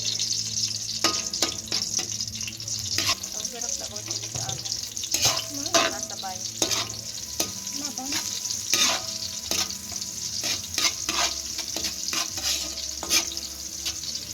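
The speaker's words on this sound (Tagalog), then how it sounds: "At pagkatapos nga natin mahiwa tong bawang at sibuyas, magpiprito na tayo." Chopped garlic and onion frying in hot oil, a steady close sizzle broken by repeated sharp scrapes and clicks of a spatula stirring the pan, with no talking.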